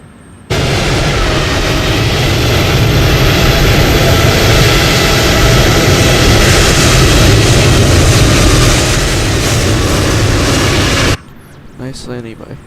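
A WestJet Boeing 737 airliner landing in the MSFS2020 flight simulator, a loud continuous jet engine roar that holds steady for about ten seconds, then cuts off abruptly, followed by brief talk.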